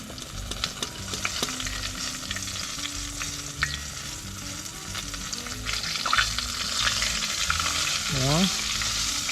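Battered chicken of the woods (sulphur shelf) mushroom pieces frying in hot oil, a loud continuous close-up sizzle and crackle with occasional stirring and shifting in the pan.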